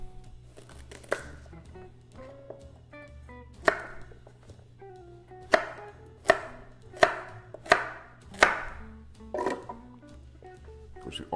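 Carrots are chopped with a knife on a cutting board in sharp, close, irregular knocks, speeding into a quick run of evenly spaced chops before easing off, with no talking.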